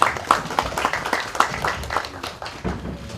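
Attendees at a Korean spectrum-allocation policy forum applaud a panelist being introduced, a modest, somewhat sparse patter of clapping from a smallish crowd that fades and picks up briefly near the end.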